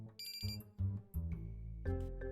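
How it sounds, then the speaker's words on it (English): A phone alarm rings indoors, a bright repeating electronic melody in short bursts, quiet but clear with no talking. "Oh, that's an alarm I set."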